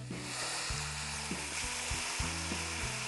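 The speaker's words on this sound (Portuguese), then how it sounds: "Ei, gostoso dormir, né, com um somzinho de onda." Ocean wave sounds play faintly from a relaxation app on a phone speaker as a soft, steady wash of hissing surf. Low tones step along underneath, and there is no talk during the sound.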